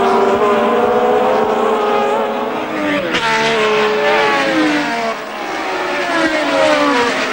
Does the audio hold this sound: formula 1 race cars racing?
yes